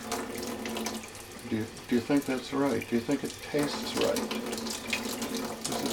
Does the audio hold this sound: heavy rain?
no